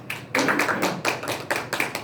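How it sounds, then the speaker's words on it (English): Applause for a woodwind quintet after a school performance, rendered as a close, uneven patter of hand claps with bursts that swell and ease back across the whole stretch, no voices over it. "Let's give these guys a round of applause."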